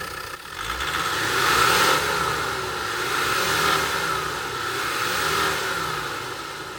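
A Land Rover Defender Td5 diesel engine runs steadily after warming up, a close, continuous mid-pitched drone with a gentle rise and fall in revs and no voices over it.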